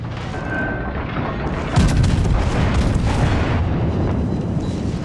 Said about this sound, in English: The secondaries are gone to work on him.